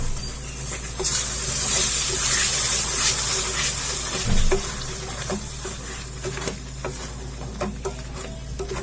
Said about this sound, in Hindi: अब मैंने जो प्यूरी बना के रखा हुआ था, अब इस तेल में मैं डाल दूंगी इस तरीके से।